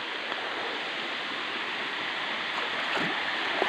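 Steady broadband rush of falling water, loud and continuous, from a tall waterfall over deep water in Lopez, Quezon, Philippines, heard from close by, with no voices.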